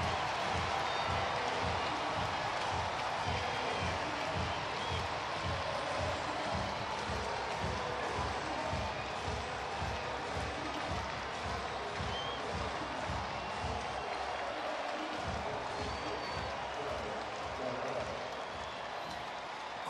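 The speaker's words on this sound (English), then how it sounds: "Crowd here at Petco" A large baseball crowd murmurs and claps in a steady, dense wash of noise at Petco Park stadium in San Diego during a Braves–Padres game, with faint talk underneath.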